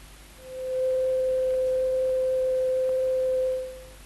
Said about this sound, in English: This simple 500 cycle tone can be represented mathematically by a sine wave.